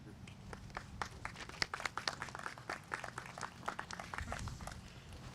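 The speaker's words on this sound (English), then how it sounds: "Can't believe I got applause." Scattered, fairly faint clapping from a small audience at an outdoor Indian Independence Day ceremony, irregular claps continuing for several seconds with some talk mixed in.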